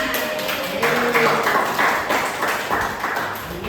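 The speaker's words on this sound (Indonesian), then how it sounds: "Ya, berikan tepuk tangan." A classroom of students claps for quiz winners, a dense, steady patter of hands lasting several seconds, with a few voices mixed in at the start.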